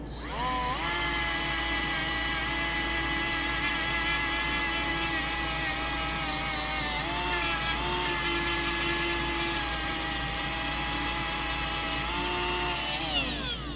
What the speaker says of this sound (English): just do a little massaging here with a Scotch-Brite cookie and get all these burrs off of here